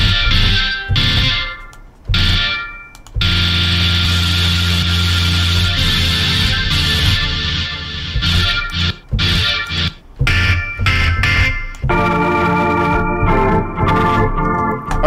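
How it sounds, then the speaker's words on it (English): An organ played through a distortion pedal effect in FL Studio blares loud, gritty sustained chords with choppy breaks and stabs, with no talking. "this is what an organ sounds like with a distortion pedal"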